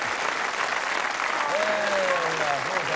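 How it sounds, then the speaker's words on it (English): Sustained studio audience applause on a television game show, dense and steady throughout, with a faint voice or tonal sound gliding through the middle of the clapping. "Let's give a nice round of applause"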